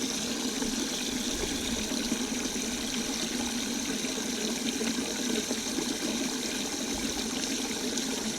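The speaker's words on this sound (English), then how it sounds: "there's plenty of bubbles going in there, so it's going to work perfectly just like this" Steady bubbling and trickling water runs from an aerator in a homemade live bait tank for bass and tope fishing, a constant, fairly quiet wash with no talk.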